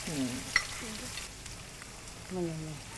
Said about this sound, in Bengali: জেনম পাতা এটাকে আমরা একটু ভেজে নিচ্ছি